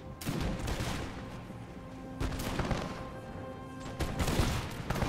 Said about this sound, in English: So the Danes fire their shot.